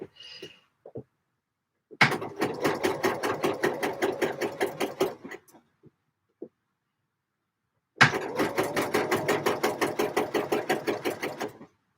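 A sewing machine stitching a Sew Over It Eve dress runs in two steady bursts of fast, rhythmic needle clatter, each lasting a few seconds, close by, with brief quiet pauses and small handling clicks between.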